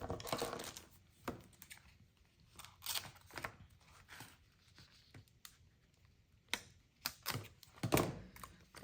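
A 215-piece die-cut sticker book being opened from its package: crinkly plastic and paper rustling in irregular bursts with a few sharper snaps, fairly close and quiet, no talking.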